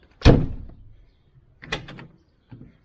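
A van door shuts with a solid, heavy thud, followed by two softer clunks of the latch or panel settling, close by with no talking.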